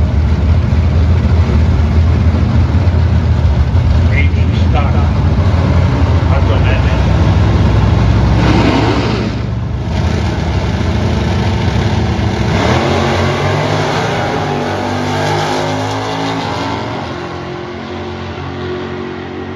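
Drag racing cars at a dragstrip, an '83 Camaro and a '72 Nova, rev their engines loudly close by, the roar rising and falling before easing off, with people talking over it.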